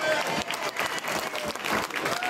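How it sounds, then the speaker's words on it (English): A crowd at a political campaign event claps steadily for a couple of seconds, a dense wash of applause without cheering. "Give her a round of applause."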